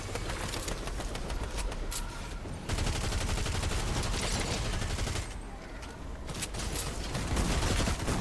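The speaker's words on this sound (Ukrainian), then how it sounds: "Хто ще стріляє?" Rapid continuous bursts of automatic gunfire in Fortnite Reload, dense and crackling, with brief pauses between volleys and faint voices underneath.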